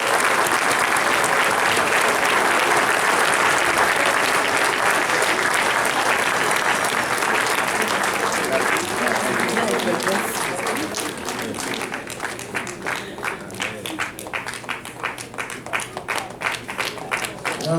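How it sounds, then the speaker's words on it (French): A crowd at a Haitian pastors' league gathering in Central Florida applauds hard in a dense, loud roar of clapping. It thins toward the end into scattered individual claps, with voices mixed in. "On va aller, on va applaudir le plus fort."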